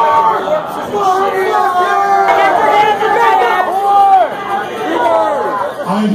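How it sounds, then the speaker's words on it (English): A concert crowd at a show at The Abbey in Orlando, Florida, yelling out song titles, a loud mass of overlapping shouts and chatter that continues without a break. "I hear a lot of song titles being yelled out there."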